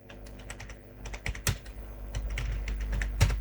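Quick typing on a computer keyboard, a close run of light, irregular key clicks with a few heavier taps, likely the space or enter key.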